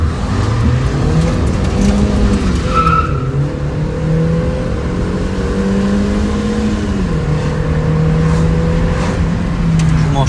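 Chevrolet Gentra 1.5L automatic with a 2024 Delphi MT60 sport tune on 91-octane petrol accelerating hard, the engine note rising steadily and loudly up close with tire squeal layered over it throughout.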